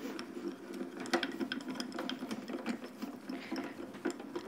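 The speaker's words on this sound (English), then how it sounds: "we're going to pop it through the grand caliper" A die is rolled through a Grand Calibur manual die cutting machine, a steady close mechanical grinding and clicking of the rollers cranking for several seconds, no voices.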